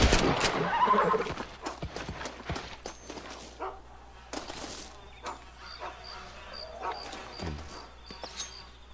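Horses in Red Dead Redemption snort and whinny amid scattered hoof thuds and game effects, with a loud burst at the start and then sparse, fainter sounds.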